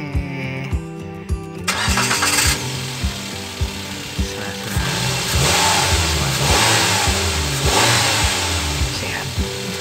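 A 2019 Daihatsu Luxio engine, freshly cleaned after a service for a stumbling, misfiring fault, cranks over and starts, then idles and revs in repeated rises, loud and close.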